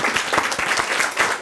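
Audience applause after a lecture on the ancient cultural exchange of Korea and Eurasia, steady even clapping from a roomful of listeners at moderate volume, brief and continuous.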